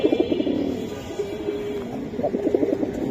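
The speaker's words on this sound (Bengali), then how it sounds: "নর আর মাদি 100 দুইটা কবুতর।" A pair of Giribaz pigeons, male and female, coo nearby in soft, throaty, repeated bursts, with a brief lull between calls.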